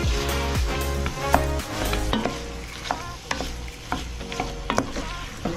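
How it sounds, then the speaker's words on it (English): A spoon stirs flour into a pot of Spanish-style beef stew, giving repeated scraping and clinking strokes against the pot over a low sizzle, close and steady with no talking. "you just stir until you see the flour disappearing"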